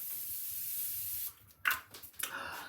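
A steady hiss of Morphe Continuous Prep and Set Mist facial spray runs for over a second, then stops, followed by quiet handling noises and a soft breath.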